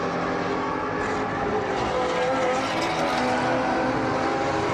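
A light blue Porsche in an SVRA vintage race at Sebring in 2021 roars past on a bumpy, wide corner entry: dense, loud, continuous engine and track noise with no pauses.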